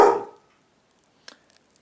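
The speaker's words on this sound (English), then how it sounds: "They're barking at wheelie bins" One short dog bark at wheelie bins at the very start, then near silence with a couple of faint distant yips or clicks.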